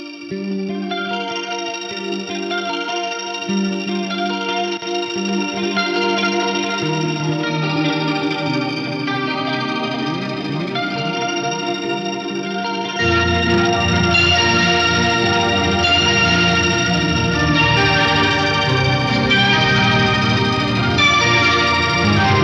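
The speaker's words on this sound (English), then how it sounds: "I'll just bring up that old tape delay sound that I had here on the H9" Guitar notes through a tape delay effect on an H9 pedal, with a repeating echo trail, each phrase smearing into warm repeats; the sound grows denser and louder halfway through.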